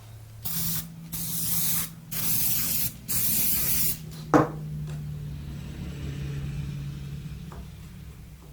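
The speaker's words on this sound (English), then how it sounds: "Spray adhesive." Can of spray adhesive in a woodworking shop, hissing in three short bursts and then one longer burst, close and fairly loud, followed by a quiet low hum.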